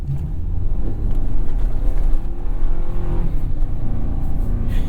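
A 2024 Toyota Tacoma TRD Off-Road drives in sand with its wheels spinning, giving a loud, continuous low engine roar and rumble, with gritty churning and wind buffeting throughout.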